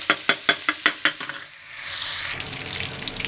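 Tikka karahi frying and browning in a pan: a series of quick, sharp stirring scrapes, then a steady close sizzle with no talk.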